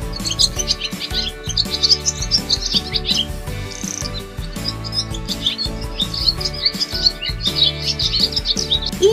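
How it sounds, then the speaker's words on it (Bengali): A bird calling from a tree in a children's alphabet song, with quick bright chirps and tweets repeating over a steady musical backing, joined by faint insect-like trills. "ঘয়ে ঘুঘু পাখি ডাকছে গাছে।"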